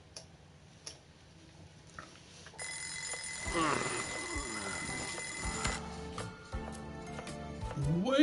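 An alarm clock in a game rings for about three seconds with a bright, sustained metallic jangle. Ticking and other game sounds come before and after it.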